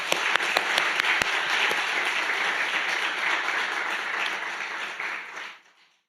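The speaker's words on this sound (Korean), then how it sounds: "목사님 사모님에게 힘내라고 박수 한번 쳐주십시다." A church congregation at a Friday prayer meeting claps for their pastor and his wife. A few sharp claps open a full, even wash of applause that holds for several seconds and then fades quickly to silence.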